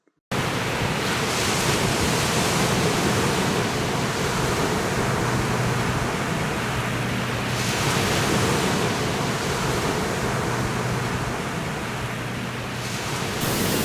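Ocean waves roll steadily onto a beach, a broad continuous wash of surf with gentle swells in intensity, close and loud with wind noise, no voices.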